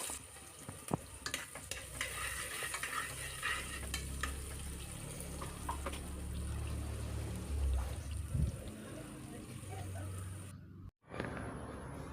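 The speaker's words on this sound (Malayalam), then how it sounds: "ഇനി ഒരു ചെറിയ സവാള ചെറുതായി കട്ട് ചെയ്തിട്ട് അതും കൂടി ഇട്ടെടുക്കാം" Chopped onion frying in a pan while making ghee rice, a steady close sizzle with occasional stirring scrapes, with no talk.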